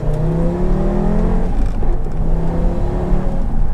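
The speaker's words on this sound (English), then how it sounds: "that was just, half throttle second gear pull" An Audi TT-RS turbo engine pulls in second gear at half throttle, a loud, close engine note whose pitch climbs steadily with a whirring turbo layer, no talk over it.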